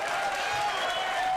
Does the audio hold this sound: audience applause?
yes